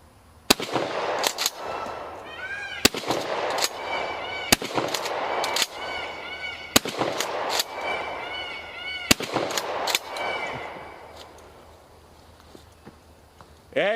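A shotgun fires about six sharp, loud blasts at a plasma screen, spaced unevenly by a second or two, each followed by a metallic clatter and ringing echo.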